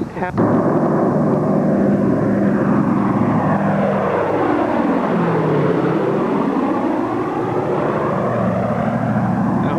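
Multiple piston engines of a B-24 bomber roar on takeoff, a loud droning propeller rumble whose pitch dips and rises as the aircraft passes close by, constant and dominating throughout.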